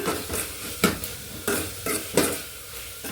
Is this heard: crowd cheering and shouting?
no